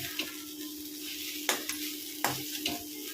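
Beetroot poriyal stirred in a pan: a steady low sizzle with a few sharp spatula scrapes and knocks against the metal, nothing else over it.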